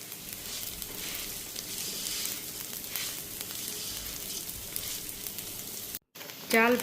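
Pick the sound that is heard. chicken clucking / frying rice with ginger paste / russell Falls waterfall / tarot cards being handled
frying rice with ginger paste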